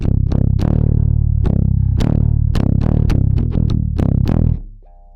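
Distorted bass guitar playing a phrase of picked notes with a chugging pick on the third, descending in a walk-down that ends on a softer sustained note, loud and close with no talking.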